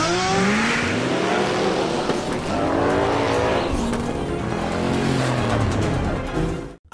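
Street race between a Chevy Corvette and a Nissan GT-R R33: loud, continuous engine roar with revving and tire squeal, cars racing close by for several seconds, no talking.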